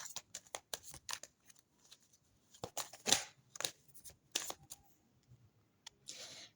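Angel cards being shuffled in a quiet room, a run of quick crisp riffling bursts and soft card slaps in irregular clusters, close and fairly faint with no talking.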